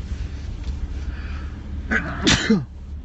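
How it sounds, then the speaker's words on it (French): A single sharp sneeze near the end, a quick inhaled buildup then a loud burst, close to the mic over a low steady background hum. "Attendez, je vais éternuer."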